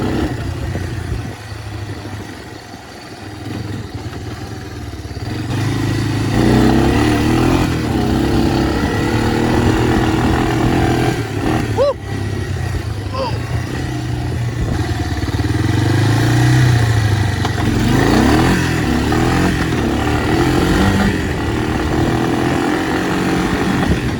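A Honda Big Red with an upgraded carburetor accelerates hard in third gear, the engine roaring loud and close, rising and holding a strained, buzzing drone for the whole stretch with no speech.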